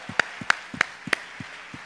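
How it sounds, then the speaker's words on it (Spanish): Church congregation clapping hands during a bilingual Spanish-English service: a handful of sharp, evenly spaced claps, fairly close and moderately loud, with no talking over them. "You can give him a mighty hand clap offering this morning."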